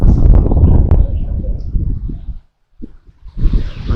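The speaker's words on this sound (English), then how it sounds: "It's pretty windy." Wind gusts across an open vegetable garden, roaring low and close against the microphone in broad rumbling surges, dropping to near silence for a moment before rising again.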